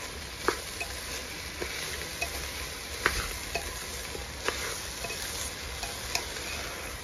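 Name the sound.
rice with cashews and raisins stirred and frying in pan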